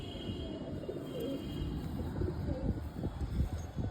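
Pet pigeons cooing softly after heavy rain, low continuous murmuring coos overlapping at close range with faint background noise, no talking.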